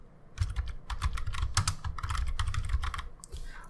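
Rapid, uneven keystrokes on a computer keyboard as a git commit message is typed, close and clear, in short bursts with no talking.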